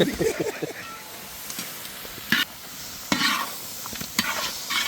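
Quail pieces fry in a pan for a cashew pepper thokku, giving a steady close sizzle with several louder bursts of stirring scrapes.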